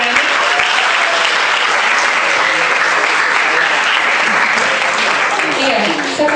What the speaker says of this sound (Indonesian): tepuk tangan dulu buat temannya yang sudah berani